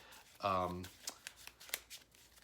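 A deck of cards shuffled during a tabletop card game, one quick riffling burst followed by a few soft taps and card handling, close and fairly quiet, with a voice speaking at the start.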